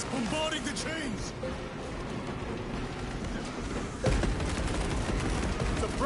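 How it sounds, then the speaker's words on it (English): Dense gunfire from the Space Marine 2 video game rattles in rapid continuous bursts with heavy booms layered in, loud and close, while game voices speak over the battle. "Suppressive fire around the chains."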